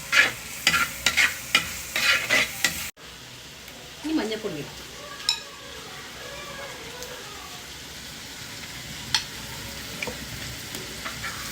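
Onions and beef masala frying in a clay pot, stirred with repeated scraping strokes over a steady close sizzle, with a voice speaking briefly near the start.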